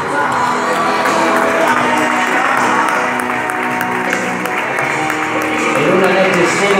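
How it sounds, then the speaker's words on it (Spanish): A crowd at a quinceañera entrance for Ariana's fifteenth birthday applauds, cheers and whoops. The sound is a dense, loud, steady wash that stays unbroken for the whole stretch. "Y a ver que se renueven esos aplausos"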